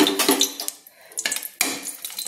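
A utensil clanks and scrapes in a pan as whole chillies and cumin are stirred in hot oil, with sharp close metallic knocks broken by short pauses.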